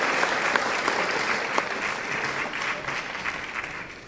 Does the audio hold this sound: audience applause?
yes